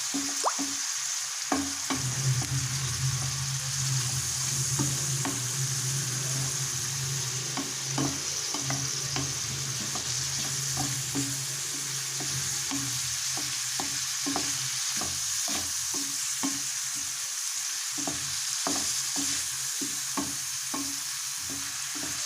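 A pan of garlic filling with cheese is stirred while it sizzles in oil, with steady frying hiss and repeated scraping strokes of the utensil close by, and no talking.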